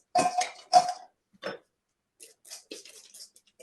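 Tempeh bites tumble and clack against a bowl in a few quick tossing bursts, then lighter scattered taps, close and otherwise quiet.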